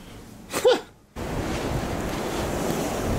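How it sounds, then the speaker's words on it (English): Strong blizzard wind roars steadily in a Chicago suburb as snow blows, a loud broadband rush filling the last two seconds after a brief gusty burst and a moment of near silence. "Almost the height of the blizzard."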